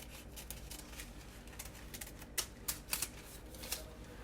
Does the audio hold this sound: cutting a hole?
yes